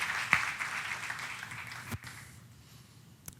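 A burst of applause from a church congregation during a sermon, fading out over a few seconds, with a couple of sharp knocks near the end.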